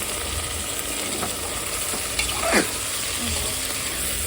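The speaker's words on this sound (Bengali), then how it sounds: "ভাজা হয়ে যাওয়ার পরে আমি এর মধ্যে দিয়ে দেবো এই চিকেনটা, দিয়ে এটাকে খুব ভালোভাবে ফ্রাই করতে হবে।" Chicken frying with onions in a pan, a steady close sizzle broken by a few soft stirring scrapes, with no voices.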